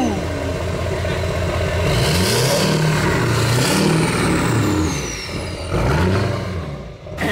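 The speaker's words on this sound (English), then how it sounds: "you hear that turbo?" A high-mileage turbocharged car with its check engine light on revs up and down repeatedly, with a rising turbo whistle over the loud, rumbling engine.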